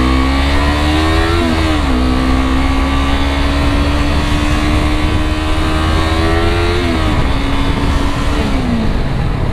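An Audi car engine revs and accelerates close by, a loud continuous drone with rising and falling pitch sweeps as it climbs through the revs, shifting around two and seven seconds, with no talk.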